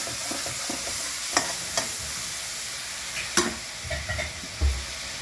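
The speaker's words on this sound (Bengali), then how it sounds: "আমি জিরা, আদা বাটা, লঙ্কার গুঁড়ো, কাশ্মীরি লঙ্কার গুঁড়ো দিয়ে গ্রেভিটা করছি। আর দেবো টমেটো পেস্ট" Cumin, ginger paste, chili powder and Kashmiri chili powder frying with tomato paste for a gravy with papaya dhoka, a steady sizzle broken by a few sharp spoon clinks and stirring scrapes, close and alone.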